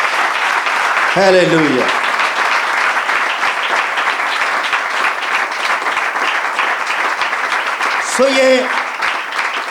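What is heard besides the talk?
church congregation applauding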